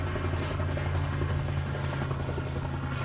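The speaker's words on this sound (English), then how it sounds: "We have a helicopter going overhead." A helicopter passes overhead, its steady low rotor thrum droning continuously at moderate loudness with no speech over it.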